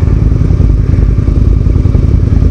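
Motorcycles rev on a road along the ride to Devil's Bridge, a loud, continuous rumbling engine drone close by that stays steady throughout with no gaps.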